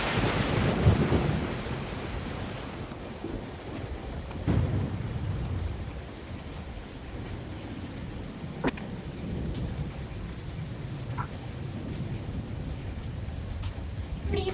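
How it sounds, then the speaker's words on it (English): A thunderstorm with steady heavy rain and rolling thunder: a loud rumble early on, a sharp crack near the middle and a fainter clap later, all over continuous downpour. "Severe thunderstorms have brought floods"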